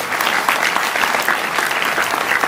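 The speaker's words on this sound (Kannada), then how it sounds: "ಸರಿ ಜೋರಾದ ಚಪ್ಪಾಳೆ ಮಕ್ಕಳಿಗೆಲ್ಲ" A crowd at a spiritual discourse gathering claps loudly for children, a dense, steady burst of applause lasting a couple of seconds.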